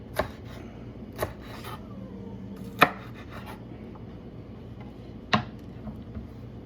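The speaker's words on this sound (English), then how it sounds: "Start chopping that up." A knife chops peppers on a cutting board in a few sharp, irregular knocks separated by pauses, close and fairly loud, with no voices.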